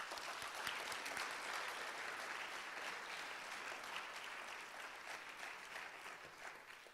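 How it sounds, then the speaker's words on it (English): Sustained audience applause honouring veterans at a high school Veterans Day program, steady dense clapping at a moderate distance that slowly tapers toward the end. "So let's give them a round of applause."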